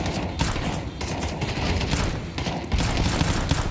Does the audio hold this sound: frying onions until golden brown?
no